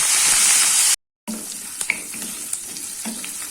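Loud crackling sizzle of dried chillies frying in a hot pan, briefly cutting out, then softer popping and spattering with occasional clinks.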